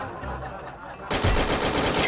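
Rapid bursts of gunfire in the shooter game Free Fire crack out loud and close after a quieter opening, a sustained volley of shots filling the second half.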